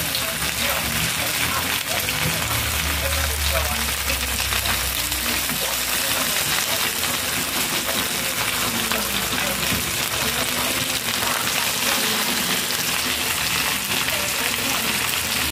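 Chicken breast frying in hot oil, a dense, steady sizzle and crackle that fills the whole stretch, loud and close with no talking.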